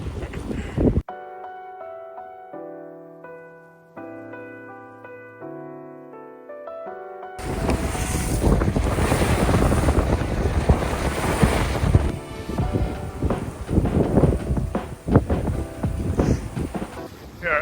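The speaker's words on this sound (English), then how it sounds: "We are under sail. It's kind of loud up here. Slicing through the water." Sailboat under sail with full jib out and a reefed main, cutting through the water; after a quiet musical opening, loud sustained wind and rushing water noise fill the rest, with a voice talking over it.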